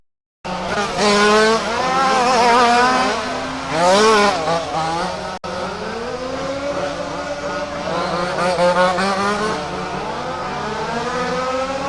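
Super Touring race cars scream past at a raceway, engines rising and falling in pitch as they pass, with some tire squeal, loud and close, over a commentator talking.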